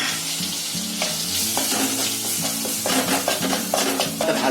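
Semolina roasting in ghee in a pan for a sweet shira, stirred steadily with a spoon that scrapes in repeated strokes over a soft, continuous sizzle, close and fairly loud, with no talk.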